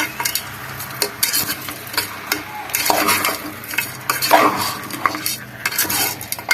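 A spoon stirs mutton with chilli powder, ginger-garlic paste, turmeric and salt in a metal pan, scraping and clinking repeatedly against the sides over a steady low sizzle, loud and close, with no talk.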